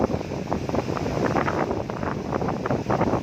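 Strong, gusting wind roars across the microphone beside a rough sea, a steady broadband rush with no voices, blowing continuously throughout.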